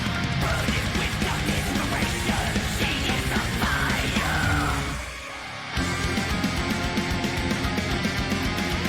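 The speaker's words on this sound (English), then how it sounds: "There's that Banshee scream." Extreme metal plays loud and dense, with a high shrieking banshee-style scream riding over pounding drums and guitars, then a short dip in the music before it surges back.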